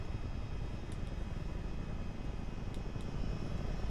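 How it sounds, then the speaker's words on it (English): Chinook helicopters in Microsoft Flight Simulator 2024, flying in multiplayer over New Zealand, give a steady, loud rotor and engine roar that runs without a break. "they won't know what hit them with all these Chinooks landing here"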